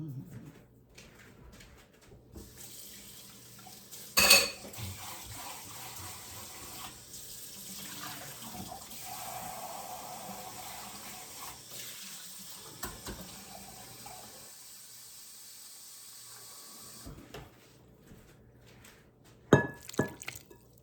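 Water runs steadily from a kitchen tap for a pizza dough mix, a sustained splashing flow with a sharp clink near the start and brief knocks at the end, and faint background voices.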